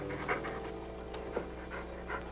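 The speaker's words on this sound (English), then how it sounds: "Stop breathing down my neck, too." Heavy, rapid breathing sounds close to the ear, a steady rhythmic panting of short breaths that continues throughout with slight swells.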